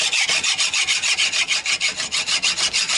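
Steady rhythmic back-and-forth scraping as rust and scale are cleared from Citroën Traction 11B door parts clamped in a vise, harsh and close, about a dozen even strokes with no talking.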